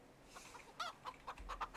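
Chickens in the Farming Simulator 25 video game give a few soft, separate clucks, quiet and alone in the farmyard.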